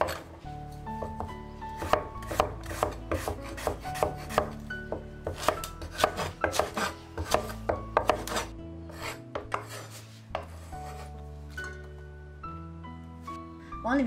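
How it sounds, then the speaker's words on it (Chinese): A knife chops scallion, ginger and garlic on a board in quick, uneven bursts of close, crisp strikes, with a short pause near the end. "切点葱姜蒜。"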